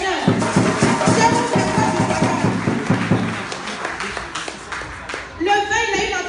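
A church congregation claps in rhythm through most of the clip, a dense run of close, steady hand claps with voices mixed in, thinning toward the end.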